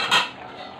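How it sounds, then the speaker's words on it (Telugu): A metal lid clanks once onto a cooking pot of simmering curry, a brief close clatter followed by a faint fading ring. "మూత పెట్టుకుందాం, ఉడికిద్ది."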